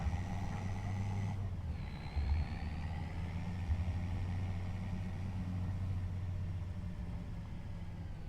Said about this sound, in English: This old truck's got plenty of power.